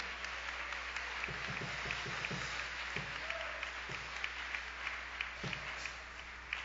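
Scattered clapping from a church congregation during a night vigil service, faint and uneven with sharp individual claps over a steady background hum.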